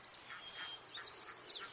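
Farm ducks raised for eggs at a shack, stirring up a ruckus: faint, distant quacking calls repeating over steady background noise, no talk.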